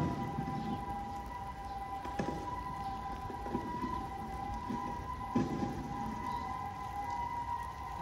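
Steady rain falls outdoors before a football kickoff, a dense continuous hiss with scattered louder drops and a faint tonal hum underneath, fairly quiet and distant, no voices.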